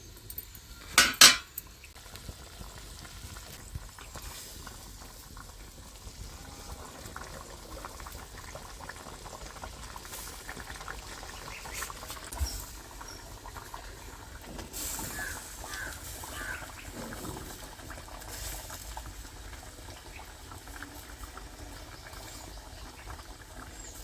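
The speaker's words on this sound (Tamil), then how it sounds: "மீன் திருப்பி போட்டு கொதிக்க விட்டுக்கலாம்" A pot of jilebi fish curry bubbles and simmers steadily throughout, with a couple of sharp metallic clinks near the start.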